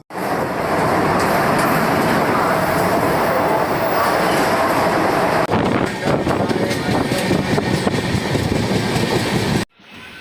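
The Northeast Superfast Express rumbles loudly past at close range as it departs a station, with a continuous roar and rattling wheels, the noise filling the clip before cutting off abruptly near the end.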